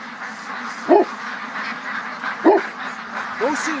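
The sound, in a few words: bird calling, likely a duck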